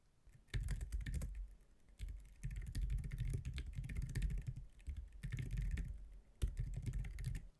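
Steady bursts of computer keyboard typing as commands are entered into a Bash script, brisk clicking keystrokes in runs separated by short pauses, close and alone with no voices.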